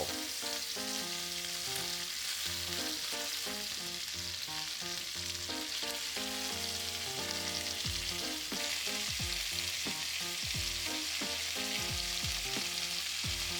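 Pork-wrapped fried tofu with cheese and kimchi sizzles steadily in a pan over medium-high heat, a continuous bright fizz with tonal ringing layered underneath.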